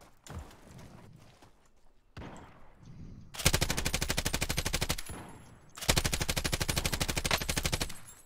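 Automatic gunfire in the video game Warzone: two long, loud, rapid machine-gun bursts of steady evenly spaced shots, preceded by softer movement and scattered sounds.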